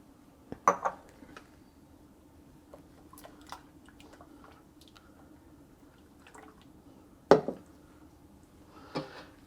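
Cooked rice and a mushroom mixture go into a saffron-lined pan, heard as a few soft wet thuds and scrapes of a utensil against metal, spaced apart over a quiet low background hum.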